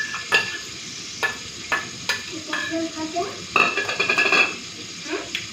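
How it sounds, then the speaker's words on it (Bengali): Oil sizzles steadily in a pan as pointed gourd fries, a utensil stirring and scraping, with several sharp metallic knocks against the pan. "হুম পটল ভাজা বসিয়ে দিয়েছি"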